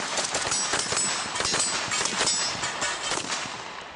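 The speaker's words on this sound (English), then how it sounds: "whereas the entire burst fired from the AK-12 is right on target" An AK-12 Kalashnikov rifle fires automatic bursts at the Izhmash firing range, a loud, dense run of rapid sharp reports lasting the whole stretch without pause.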